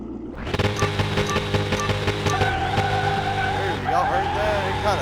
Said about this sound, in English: It kind of spit whenever it revved up that time.